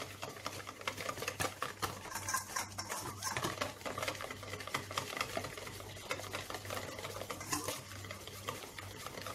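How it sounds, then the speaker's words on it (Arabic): Cocoa cookie dough ingredients being mixed by hand in a bowl, a steady close run of stirring, scraping and soft pattering with faint clinks from a utensil, continuing evenly with no talk. "نخلطو مزيان حتى ينسجم مع العناصر"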